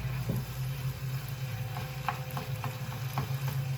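Ground meat for lasagna browning in a pan on medium heat, giving a steady low sizzle with occasional scrapes and stirring clicks throughout, fairly close.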